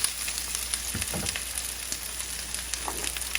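Onions cooking down in a pan produce a constant close sizzle with scattered crackles and a couple of soft clinks or stirring bumps, with no voices over it.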